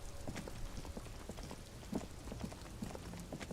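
Rain falls in the video game Disco Elysium, a soft, faint, continuous patter of drops on a surface with scattered heavier splats throughout.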